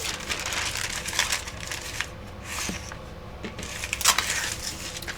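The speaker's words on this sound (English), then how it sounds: "so now I can take my parchment paper" Parchment paper is handled during a Valentine's craft project with vinyl, giving soft continuous crinkling and rustling with scattered light taps, fairly quiet and close, with no talking.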